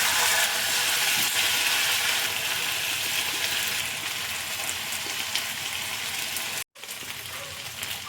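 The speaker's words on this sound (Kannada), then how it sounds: "ಈಗ ಒಂದೊಂದೇ ಫಿಶ್ ಹಾಕೊಳ್ತಿದ್ದೀನಿ" Green masala fish frying on a hot tawa, a steady dense sizzle with crackling spatter that fills the whole stretch at even loudness, dipping once briefly near the end before resuming.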